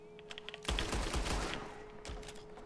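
Revolver gunfire in the video game Red Dead Online: a sharp close shot followed by a fast burst of cracks and a rattling tail, then a fainter later report, against a quiet background.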